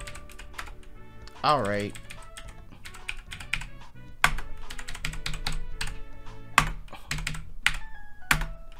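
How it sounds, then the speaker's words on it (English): Computer keyboard keys clack in quick, uneven bursts of typing throughout, close and fairly loud, while someone briefly speaks and game music plays softly underneath. "Sorry for the keyboard clicking."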